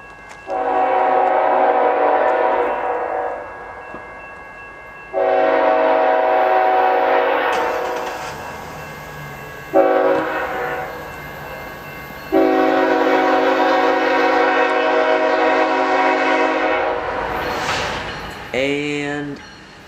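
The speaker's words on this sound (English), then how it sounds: "The second train of the night was a southbound." A southbound train's horn blares in several long, loud blasts with short gaps between them, over the rumble of the passing train at night.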